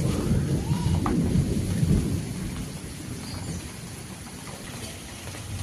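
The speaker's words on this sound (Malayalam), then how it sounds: "ചക്ക വെച്ച് തിന്നിട്ട് പോവാ. മഴയല്ലേ" Steady rain falls on surfaces while a deep roll of thunder rumbles in the first two seconds and then fades, leaving an even downpour hiss with no voices.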